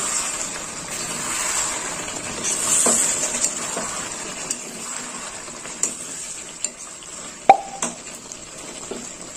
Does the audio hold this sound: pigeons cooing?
no